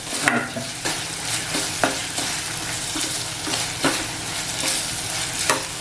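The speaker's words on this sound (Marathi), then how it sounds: "कांदा छान असा परतवून घेतलाय" Onion fries in a pan while being stirred, with a steady sizzle under repeated scraping strokes of the spoon at a regular pace, close and clear without talking.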